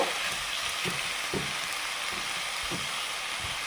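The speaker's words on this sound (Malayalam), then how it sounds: "നമ്മൾ മാരിനേറ്റ് ചെയ്ത് വെച്ച ചിക്കൻ ഇട്ട് കൊടുത്തു അത് കഴിഞ്ഞിട്ട് ഇനി നമ്മളിതിനെ നല്ല ഹൈ ഫ്ലെയിമിൽ തന്നെ ഇട്ട് ഒന്ന് ഒരു രണ്ട് മിനിറ്റ് ഒന്ന് മിക്സ് ചെയ്യുക" Marinated chicken pieces fry over a high flame for a chicken roast, giving a loud, steady sizzle with a few soft scraping stirs, and no voices.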